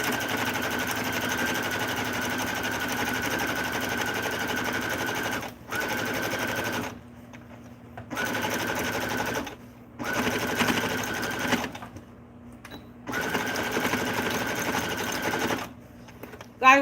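A sewing machine at a home sewing table runs in steady stitching bursts of several seconds, stopping briefly between runs, while people talk in the background.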